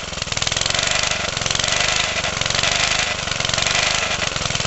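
Loud 75cc or 98cc Suffolk Punch / Colt small engine running steadily after cleaning and tuning, with a rapid, even chugging pulse and a faint rattle, revving slightly at times.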